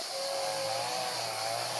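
A neighbour's chainsaw or brush cutter drones steadily in the distance, a continuous high buzzing motor with no breaks, heard outdoors in a summer garden with no talk.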